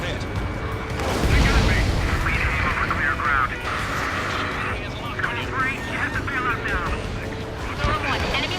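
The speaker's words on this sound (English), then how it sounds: "Missile hit." A missile strike in the Ace Combat 7 flight game lands as a loud, close boom with a rumbling burst, followed by sustained jet engine roar and radio chatter.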